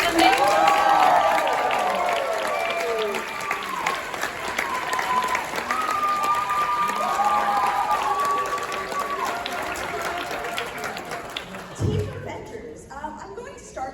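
An audience at a DragonCon puppet ninja warrior final round claps and cheers loudly, sustained applause with scattered whoops that gradually fades, while a host talks over it.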